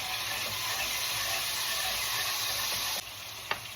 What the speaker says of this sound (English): go in with the cherry tomato, as well as a little bit of tomato paste. Mix everything